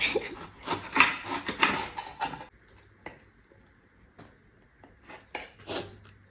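A knife cuts a bell pepper on a board, with a cluster of close scraping, crunchy strokes at first, then sparse, fainter cuts and taps.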